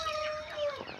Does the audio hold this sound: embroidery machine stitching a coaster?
no